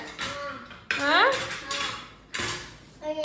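Toy kitchen pots and dishes clatter in three close, bright bursts of clinking metal during children's pretend cooking, with voices audible between and under the clanks.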